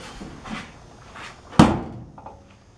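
A 1965 Mustang door is shut with one solid slam during a wheel house and quarter panel install, preceded by faint knocks and thumps and followed by a short ringing decay.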